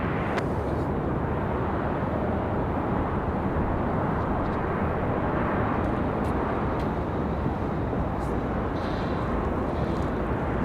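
American Eagle jet operated by PSA at Raleigh-Durham airport, a loud, broad, steady engine roar that holds level throughout, heard from a spotting position with no talking.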